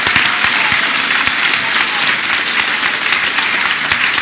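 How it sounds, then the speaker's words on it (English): Loud, close audience applause for young band and choir performers at a school Veterans Day assembly, dense steady clapping with scattered crowd noise, continuous throughout. "please give a round of applause for our young performers."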